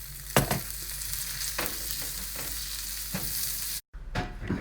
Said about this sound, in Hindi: ड्राई नट्स को रोस्ट कर लें बटर में।